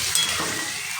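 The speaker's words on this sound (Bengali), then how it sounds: "এবারে আমি এর মধ্যে দিয়ে দেবো জল" Water poured into a hot pan of rui fish, potato and drumstick curry, giving a brief broad hiss and sizzle that lasts about a second.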